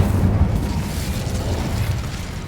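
A fire spell cast in the Hogwarts Legacy video game, heard as a loud, sustained rumbling whoosh of flame and boom that stays dense and steady for a couple of seconds with no talking.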